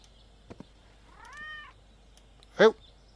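A cat meowing in the video game Gabriel Knight 3: a couple of soft taps, then a drawn-out mid-length meow, followed by a short sharper second meow, close and clear over a quiet background.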